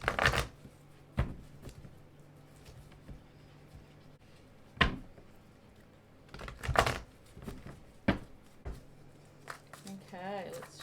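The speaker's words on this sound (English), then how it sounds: "Okay, let's shuffle again." Tarot cards shuffled by hand in repeated crisp riffling bursts and taps, close and intermittent, with a person speaking between them.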